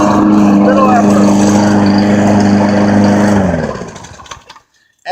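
The engine of an all-wheel-drive, self-propelled push mower runs at a loud, steady drone for several seconds. It then dies away and goes quiet.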